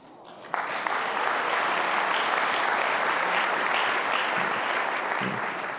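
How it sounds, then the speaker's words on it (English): A conference audience bursts into sustained applause that holds steady for several seconds before slightly tapering. "then we're going to clap again"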